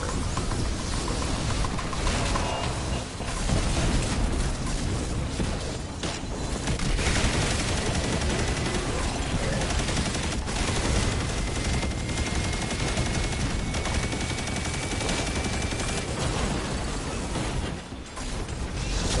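Dense, continuous weapon fire aimed at gatekeepers in Destiny 2, a loud wall of rapid shots and mechanical clatter that barely lets up, with no talking.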